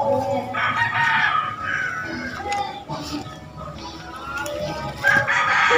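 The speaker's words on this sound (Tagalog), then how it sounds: "Dami pa rin mga manok dito mga idol, oh." Chickens cluck and cackle close by while a rooster crows, a busy barnyard chorus with overlapping calls and no clear speech.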